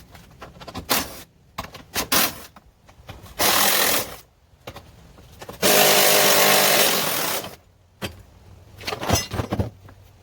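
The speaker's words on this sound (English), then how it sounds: "Now I'm going to go grab my 10mm drill" A power drill whirs in two sustained bursts between shorter clicks and handling noises while working on a 2015 Arctic Cat Wildcat Trail 700 side-by-side, loud and close, with no talking.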